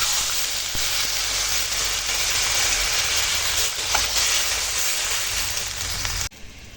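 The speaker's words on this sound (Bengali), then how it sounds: "এবার জল দিয়ে দেবো" Water hits spiced vegetables in a hot pan with a loud, continuous sizzling rush that holds steady and then cuts off abruptly near the end.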